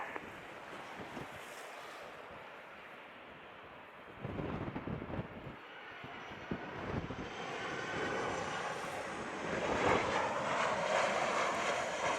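Airliner on approach to runway 07 at Montego Bay, Jamaica, a broad jet roar building steadily and growing louder toward the end, heard outdoors with ocean surf in the background.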